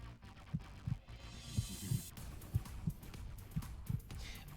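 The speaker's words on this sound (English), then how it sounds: "That heartbeat gets a little bit louder for you." A heartbeat sound effect throbs at low pitch in steady paired beats over a dim background hum, growing slightly stronger as it goes.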